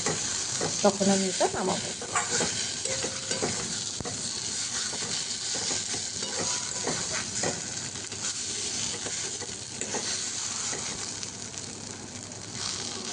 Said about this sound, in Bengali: এবার ভালো করে আমি নাড়বো, বেশ একটু কালচে কালচে হবে